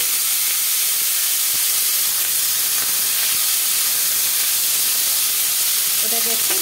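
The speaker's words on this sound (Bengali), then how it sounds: "দিয়ে দেবো পেঁয়াজ কুচি।" Chopped onion, bay leaves, dried red chillies and whole garam masala frying in hot oil for a mutton dish, a loud, steady sizzling hiss that fills the whole span.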